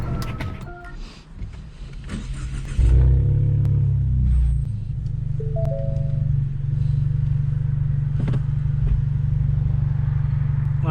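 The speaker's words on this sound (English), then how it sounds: "today we're pretty much gonna just do more testing on this Mustang Ecoboost" A Ford Mustang EcoBoost engine while driving, a steady low rumble that swells in louder after a few seconds and holds a constant drone, with a few faint clicks and short tones on top.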